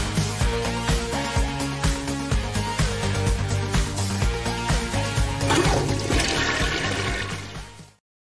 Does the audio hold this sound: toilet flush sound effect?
yes